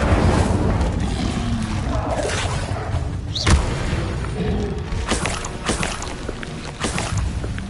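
The Incendio fire spell cast in Hogwarts Legacy gives a sustained roaring, rushing blast with a few heavier thuds and splashy bursts, loud and continuous throughout.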